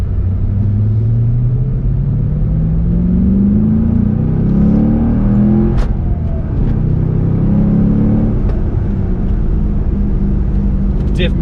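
A Cadillac CTS-V drift car accelerates hard on a neighborhood street, its engine rumbling loud and close with rising revs and a brief shift break midway.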